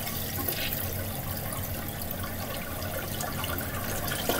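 A 2006 Glacier Bay toilet flushes with its handle held down, producing a loud, continuous rush and swirl of water that stays steady throughout.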